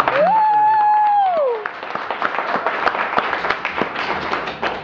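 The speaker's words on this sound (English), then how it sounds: "Give yourselves a round of applause." Applause from a convention audience at the closing ceremony of Glitch Con 2011 rises after a brief sustained tone and continues as a dense, steady clatter of many hands to the end.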